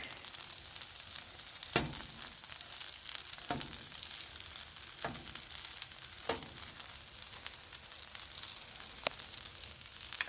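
Vegetables and grilled cheese sandwiches sizzle steadily in a hot pan, a constant crackling fry with a few sharp pops and stirring knocks, close and fairly loud with no talking.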